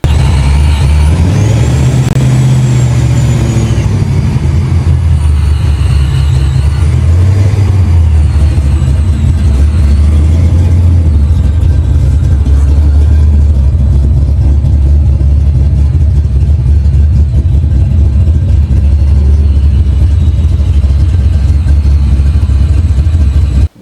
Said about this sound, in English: As you heard the Vortec whistling.